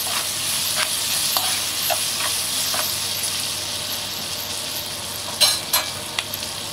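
Continuous frying sizzle as egg biryani ingredients cook in oil in a pan, a steady hiss broken by a few sharp crackles and light stirring clinks near the end.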